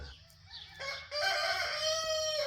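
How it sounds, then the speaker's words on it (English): A rooster crows once, close and loud, a rising then long sustained call lasting a couple of seconds, with no talking. "he's talking to all the other roosters"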